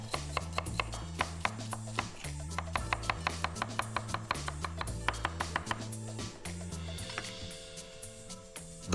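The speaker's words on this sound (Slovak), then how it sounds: "Nasekáme cibulu nadrobno." Finely chopping an onion with a knife on a board in a kitchen: a steady run of quick, crisp taps over background music, with the rhythm loosening near the end.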